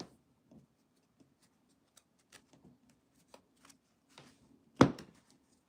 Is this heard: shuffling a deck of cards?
yes